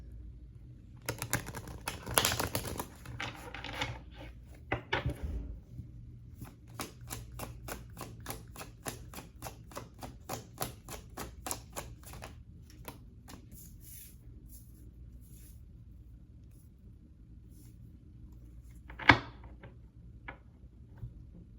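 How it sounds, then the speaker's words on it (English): Tarot cards shuffled and drawn during a reading, a quick run of crisp riffling flicks in rapid rhythm, then a few softer card taps and one sharp slap near the end, close and fairly quiet. "Let's pull a couple more cards."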